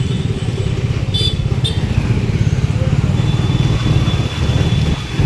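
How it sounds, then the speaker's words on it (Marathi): Road traffic during the Jalgaon chariot festival, a loud, close, continuous rumble of motorcycle and car engines idling and creeping along in a jam, with a brief horn-like tone partway through. "जिकडं नाही तिकडं ट्रॅफिक"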